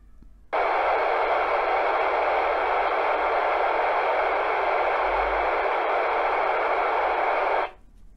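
Steady hiss of radio static starts abruptly, holds at an even level for several seconds, then cuts off; no voices.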